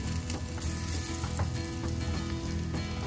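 Ginger garlic paste sizzles loudly in hot oil in a pan, giving a dense, steady crackle with a few soft stirring scrapes, close and without voices.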